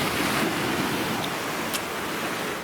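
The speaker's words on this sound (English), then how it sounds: "That sound of those waves crashing off those rocks." Waves crash steadily against rocks on the Bray seafront, a loud, continuous broadband roar of surf with no pause and no voices.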